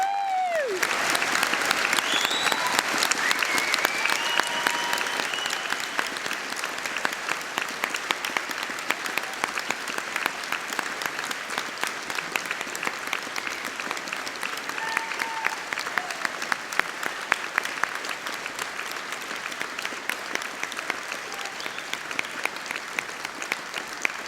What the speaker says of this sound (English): let's give them an amazing round of applause